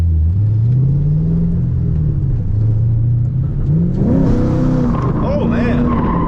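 Ford Mustang engine revving hard during a drift test, a loud, close roar rising and falling in pitch with tire squeal building in the latter half, and a voice speaking over it.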